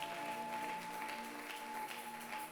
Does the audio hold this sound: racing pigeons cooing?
no